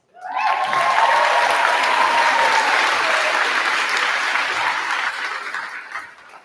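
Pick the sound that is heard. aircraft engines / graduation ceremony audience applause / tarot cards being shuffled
graduation ceremony audience applause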